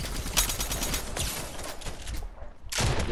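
Rapid video-game gunfire, bursts of sharp shots in quick succession, a short pause, then another loud burst at the end.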